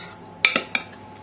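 Mushroom soufflé mix is spooned into bowls, heard as three quick, bright clinks of a spoon against a dish over a quiet background.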